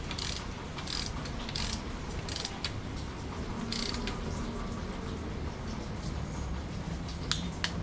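A ratchet wrench clicks in quick repeated bursts while torquing cylinder head bolts on an Acura Type S engine, close and steady, with short strokes and pauses between pulls.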